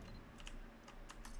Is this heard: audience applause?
no